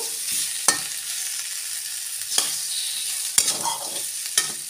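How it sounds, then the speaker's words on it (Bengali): Green peas, tomato and other vegetables fry in a pan under a steady close sizzle, broken by a few sharp spatula scrapes and knocks as they are stirred. "আর মটরশুঁটি। এগুলো দিয়ে একটু নেড়ে নেব।"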